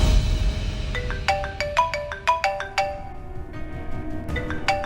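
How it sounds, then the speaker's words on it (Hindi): Electronic phone ringtone chiming in a quick repeated melodic pattern of bright tones, moderately loud indoors over a low background hum, with a pause before a second burst of rings. "लो, तुम्हारी मम्मी का फोन है।"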